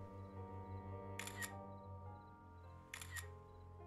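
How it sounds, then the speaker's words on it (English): Two crisp camera shutter clicks from a phone in the video game Vertigo, spaced about two seconds apart, each a sharp snap standing out over a steady low game music bed. "She could at least turn off like the camera sounds"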